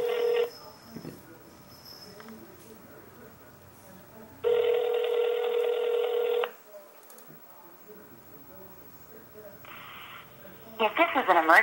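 A telephone call is dialed, with brief dial tones, a long steady tone burst, and a later beeping line signal, while faint speech-like sounds run in between.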